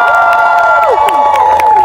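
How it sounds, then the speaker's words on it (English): A crowd at a fun walk cheering and shouting loudly, with voices sliding in pitch and some scattered clapping mixed in, close and energetic throughout the short burst. "Give yourselves a big round of applause."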